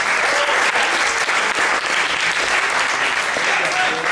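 Audience at an improv comedy show applauds steadily and loudly throughout, a dense wash of clapping from a full room with a few faint voices mixed in.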